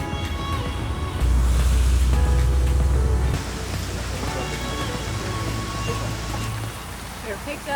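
Heavy rain pours steadily in Vang Vieng, Laos, a dense rushing hiss that swells louder for a couple of seconds and then settles into a constant downpour close by.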